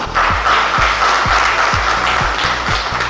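A crowd at a town-twinning ceremony between Neufchâteau and Aboisso applauds in a thick, continuous wash of clapping, with a steady low pulse about twice a second underneath, loud and close.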